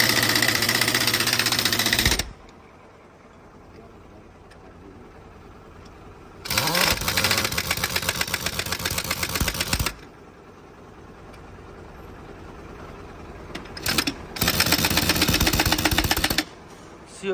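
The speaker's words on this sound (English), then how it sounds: "This gun is pneumatic gun." A pneumatic impact gun works on heavy truck parts during leaf spring work, firing in three loud rapid rattling bursts of a few seconds each, separated by quieter stretches of shop background.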